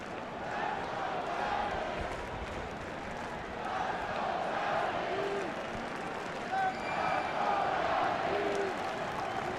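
Large crowd of over 40,000 Yankee fans at a New York Yankees versus Chicago Cubs baseball game, a continuous roar with swelling cheers and scattered shouts throughout.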